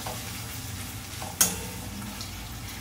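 Ginger and garlic frying in oil in a pan, a steady soft sizzle with light stirring scrapes and one sharp utensil clink partway through, close and without talk.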